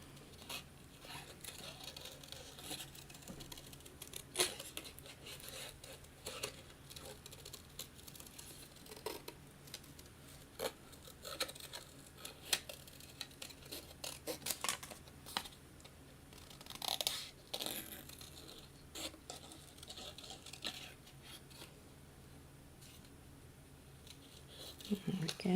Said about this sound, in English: I'm going to go ahead and just cut out, leaving a nice white outline